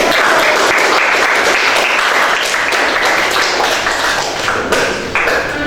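Group applause in a school classroom, loud and close, a thick continuous burst of many hands clapping that holds strong for nearly six seconds before thinning slightly toward the end.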